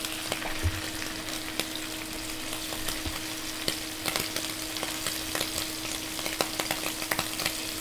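Food crackles and sizzles steadily in hot oil in a Tefal frying pan, with a continuous broadband hiss and frequent sharp pops and spits close by, and no talking.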